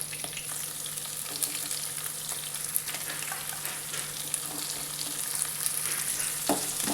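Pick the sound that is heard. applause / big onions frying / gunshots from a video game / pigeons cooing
big onions frying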